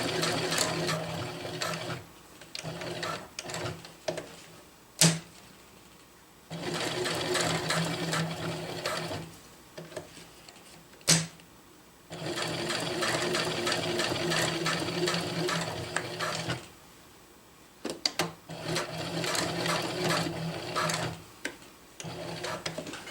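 A sewing machine stitches box-stitch loops onto a water bottle carrier in quick whirring bursts of a few seconds each, separated by short pauses and occasional sharp clicks as the fabric is turned.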